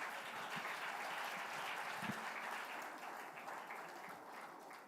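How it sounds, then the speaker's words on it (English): An audience at an education conference gives a sustained round of applause, a dense, steady patter of many hands clapping that fills the whole stretch before tapering slightly near the end. "a great round of applause to go alongside"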